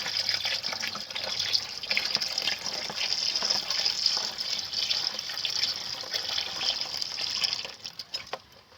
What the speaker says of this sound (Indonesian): Jadi saya sambil aduk, airnya dimasukkan.